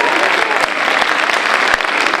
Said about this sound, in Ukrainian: зустрічайте їх оплесками